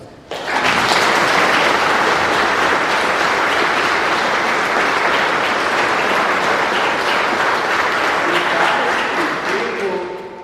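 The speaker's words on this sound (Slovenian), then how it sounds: "Zaslužen aplavz." Sustained applause from a church congregation at a golden jubilee Mass in Rovte, filling the space with dense, steady clapping that swells quickly and holds loud for about ten seconds before easing slightly.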